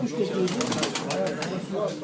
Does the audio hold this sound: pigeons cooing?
yes